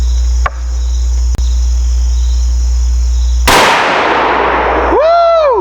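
A Ruger American Gen II rifle chambered in 450 Bushmaster fires a single loud, sharp shot outdoors at a range. A couple of faint clicks come first, and a brief ringing tail follows.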